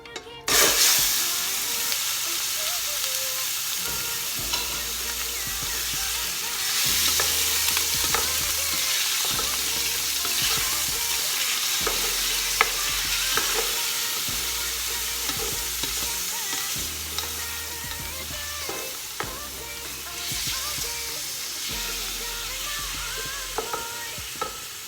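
Chicken fries in hot olive oil in a casserole for a long stretch, with occasional stirring scrapes and clatters over the continuous crackling hiss.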